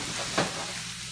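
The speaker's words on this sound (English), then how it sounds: "we're just pan-frying the sprouts" Brussels sprouts pan-fry on a Nutrigrill, giving a steady close sizzle with a brief louder hiss partway through.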